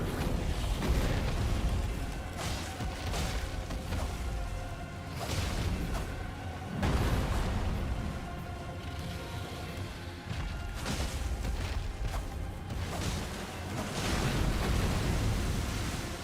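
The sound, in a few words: dragon stomp attack in Elden Ring video game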